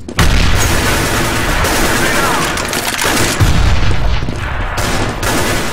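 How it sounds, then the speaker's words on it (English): A grenade going off in CS:GO during a competitive match, a dense loud burst of booming blasts and gunfire filling the whole stretch, with players' voices mixed underneath. "I'm throwing a grenade!"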